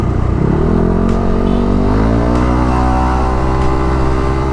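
A motorcycle with a K'Race standard racing exhaust revs up and holds at high RPM, a loud, raspy, continuous exhaust roar close by.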